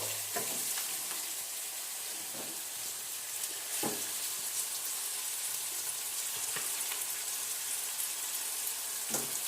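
Rabbit pieces frying in a casserole pot for a Genoese rabbit dish, a steady soft sizzle with occasional sharp crackles and pops spread across the clip.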